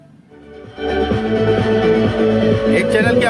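Music plays loudly through a repaired 3055-transistor amplifier board, starting faint and jumping up to full, clear volume with steady rhythmic bass.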